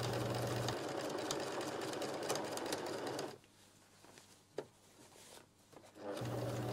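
A sewing machine runs steadily while stitching a skirt seam, then stops briefly with quiet handling noises before starting again for a short final burst.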